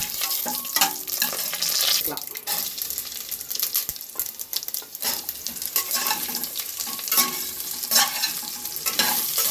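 Bitter gourd sizzles and fries in a curry leaf tempering, with steady crackling and hissing and intermittent scraping stirs from a spatula, close and continuous with no talking.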